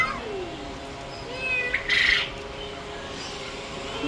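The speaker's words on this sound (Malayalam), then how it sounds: "പൂച്ച നോക്കിയ മറ്റേ സാധാ പൂച്ച കിടക്കുന്നുണ്ട് അവിടെ." A cat meows at a small farm in Saudi Arabia, a couple of short calls over steady outdoor background, with faint bird chirps nearby.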